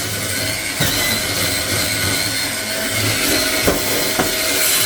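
A powered electric cleaning brush scrubs crusty grime off a surface, giving a dense, steady whirring and scraping noise at close range with a few brief knocks.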